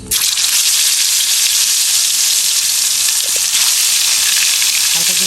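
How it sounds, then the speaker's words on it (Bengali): Washed fish pieces fry in hot oil in a home kitchen, giving a loud, dense, continuous sizzle close by that runs throughout with no pauses, and a faint clatter near the end. "মাছটা ভাজি করতেছি।"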